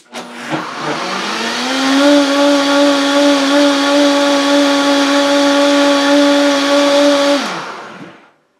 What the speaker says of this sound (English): Now the same distance away, let's try the Vitamix.